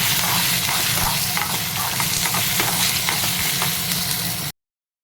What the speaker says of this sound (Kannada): ಹಸಿಮೆಣ್ಸಿನ್ಕಾಯಿ ಫ್ರೈ ಆಗ್ತಿರುವಾಗ